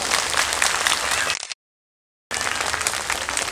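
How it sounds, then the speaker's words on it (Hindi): A large audience at a Ram Katha religious gathering claps loudly and continuously, the applause cutting off abruptly into a moment of silence before resuming at full strength. "जरा जोरदार ताली बजाइए एक बार"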